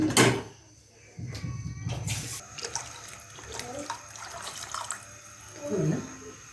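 Tamarind water being poured in a kitchen while rasam cooks: a loud splash, then a steady liquid rush and trickle with clinks and a few vessel knocks, up close.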